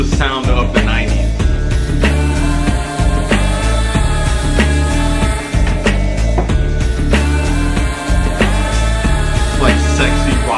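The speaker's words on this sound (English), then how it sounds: "Like sexy rock music." A loud, dense 1990s rock song with steady drums, bass and guitars carries on without a break, sung vocals running over the full band.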